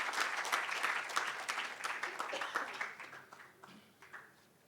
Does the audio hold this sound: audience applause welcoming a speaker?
yes